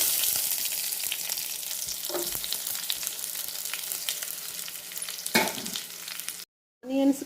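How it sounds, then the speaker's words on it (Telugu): Curry leaves and finely chopped onions hit hot oil in a pan, giving a loud continuous close sizzle and crackle with a few utensil scrapes, cut briefly by a short gap near the end. "ఆయిల్ హీట్ అయిన తర్వాత కరివేపాకు, సన్నగా తరిగిన ఆనియన్స్ వేసుకోవాలండి"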